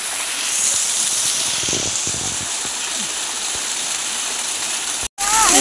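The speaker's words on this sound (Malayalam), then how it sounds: "ചെറിയൊരു വെള്ളച്ചാട്ടമുണ്ട്" Loud, steady rushing water of a small waterfall mixed with rain hiss, continuous and close, cutting out briefly near the end.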